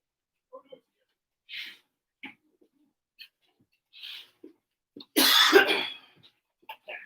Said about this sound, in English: I'm super 20. paranoid coughing now